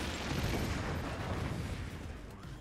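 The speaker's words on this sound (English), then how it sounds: "your own mortar hitting your own core" Dense rumbling blasts of mortar shells striking a fort's core in the game Forts, a loud continuous roar of overlapping explosions that eases slightly near the end.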